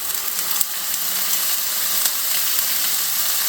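Sous vide T-bone steak searing in a hot pan, giving a steady, close, bright sizzling hiss that holds evenly throughout with a few small crackling pops.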